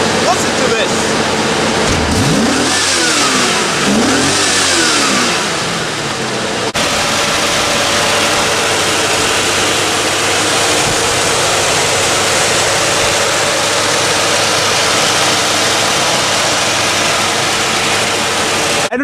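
A 1994 Chevrolet Corvette C4 with a 5.7-liter engine revs, rising and falling twice near the start before settling into a loud, steady roar with wind-like noise for the rest.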